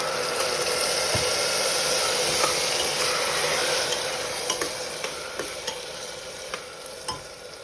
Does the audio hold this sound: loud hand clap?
no